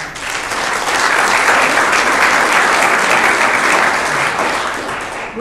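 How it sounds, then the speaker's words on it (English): A Rotary Club meeting audience gives loud, sustained applause for students, a dense wash of many hands clapping evenly for about five seconds before dropping off. "Let's give those students a big round of applause."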